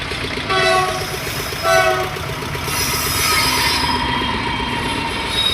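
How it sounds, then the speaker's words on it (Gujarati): A loud train rumbles past close by near the Savarkundla marketing yard in Gujarat, its horn blasting twice over steady wheel noise and squealing. "ટ્રેન આવી રહી છે ટ્રેન"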